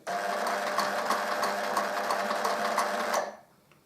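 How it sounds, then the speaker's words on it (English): A sewing machine runs steadily, sewing lock stitches at the end of a seam with a fast, even mechanical whir and needle rattle that stops abruptly near the end. "we're going to do another couple of lock stitches just to stop it from unthreading"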